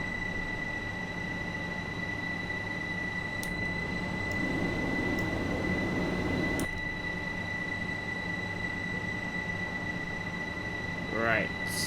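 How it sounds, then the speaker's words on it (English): A stationary train idles in Train Sim World on the East Coastway Line at Eastbourne, giving a steady mechanical hum with tonal whine, a few clicks and a brief thump, with a rising squeal near the end. "I can hear the train, but the train's not moving."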